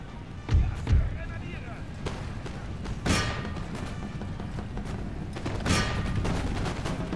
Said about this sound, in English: We're getting shot by the militia, that's okay.